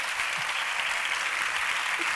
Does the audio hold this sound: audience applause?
yes